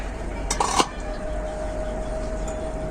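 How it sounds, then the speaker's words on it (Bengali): A metal lid lifted off a cooking pot of simmering mango and okra curry, giving a brief clatter and clink under a steady hum of background noise, then quiet. "ঢাকাটা খুলে দেখে নেব।"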